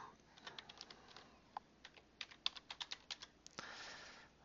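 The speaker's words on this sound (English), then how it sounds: "I'm going to go ahead and type that drug name in and click on search." A computer keyboard being typed on at a desk, entering a drug name into a literature search: a quick run of light, crisp key clicks in irregular bursts, close and fairly quiet, with no one talking.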